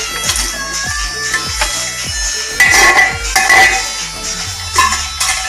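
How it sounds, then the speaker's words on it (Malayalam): Cooked mutton drops into a frying pan for a spicy pepper dry fry, with clattering of a spoon against the metal pan, scraping and a steady sizzle, heard close with no talking. "ഇതിലേക്ക് വേവിച്ച് വെച്ച മട്ടൺ ഇടുകയാണ്."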